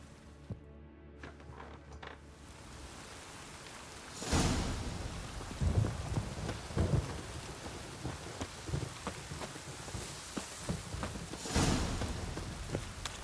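Steady rain pours in The Witcher 3 video game, with rumbling thunder rolls surging near the start and again later, and scattered drops and crackles over a constant wash of rainfall.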